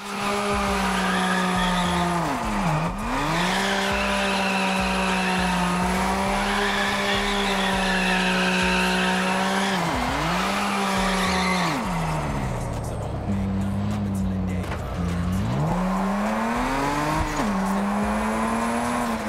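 Continuous car engine roar with rising and falling revs in the racing game Test Drive Unlimited Solar Crown, punctuated by several tire squeals and skids from donuts, loud and close with no talking.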